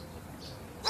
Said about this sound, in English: I thought you meant the barking.